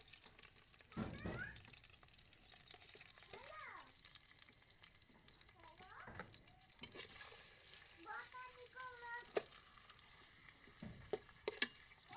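Fish liver frying with turmeric and salt gives a faint continuous sizzle in the pan, with scattered clicks and knocks of stirring and a voice speaking over it now and then.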